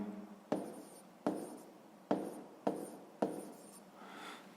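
Writing on paper during a sixth-grade math exercise: five distinct pen strokes in a regular rhythm, each a sharp scratch that trails off, close and quiet with no voices.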